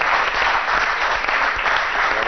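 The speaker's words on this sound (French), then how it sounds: "on applaudit bien fort" Studio audience at a Nessma TV variety show bursts into loud, sustained applause after a playing-card trick, many hands clapping densely and evenly throughout.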